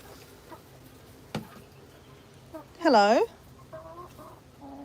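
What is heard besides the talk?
big chicken clucking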